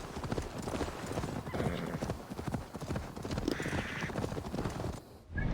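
A horse's hooves clip-clop in a steady rhythm in Assassin's Creed Valhalla, joined by a brief whinny and a crow's caws over an outdoor ambience, ending in a short pause.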